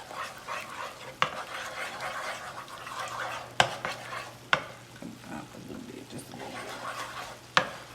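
Eggs being stirred in a frying pan while they cook, a steady soft scraping and sizzle with a few sharp clinks of the utensil against the pan.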